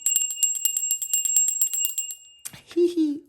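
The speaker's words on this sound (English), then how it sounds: "ring the bell" A small bell rings with rapid repeated strikes during a tarot reading, bright and close for about two seconds before it stops and a voice speaks.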